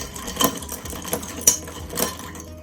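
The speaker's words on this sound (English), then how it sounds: "I'm going to go ahead and stir" A spoon stirs agave nectar into a cranberry mocktail in a glass, giving a few light clinks and taps against the sides: three brighter knocks stand out over a soft, continuous scraping swirl, close and fairly quiet with no talking.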